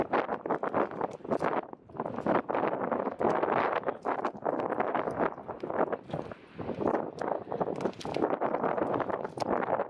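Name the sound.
strong storm wind on the Lena River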